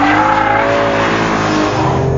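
A BMW E46 M3 driven hard on a racetrack in sport mode with stability control off, its engine note loud and close, rising in pitch through a sustained high-revving pull.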